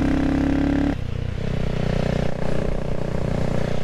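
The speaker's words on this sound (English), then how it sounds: "this bike just wants to go" A CCM motorcycle engine runs loud and close, a steady rough drone that drops sharply a second in, then settles into an uneven idle with small revving swells.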